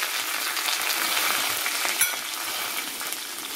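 Curry leaves sizzling and spitting in hot sesame oil during a tempering for a sesame-peanut rice, a dense continuous crackle close by with a sharp pop near the middle, no voices.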